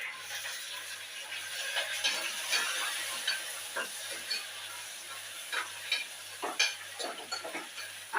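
Chopped onion hits hot oil in a khichdi tempering with mustard seeds, garlic, asafoetida, curry leaves and chilli, making a continuous hiss broken by repeated stirring scrapes and clinks, close and unvoiced, with a faint regular low hum beneath.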